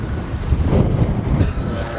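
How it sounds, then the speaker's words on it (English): Wind gusting outdoors in Texas, a broad low rushing roar buffeting the microphone, swelling in two surges before easing off. "See, the wind picked up right when I said their names."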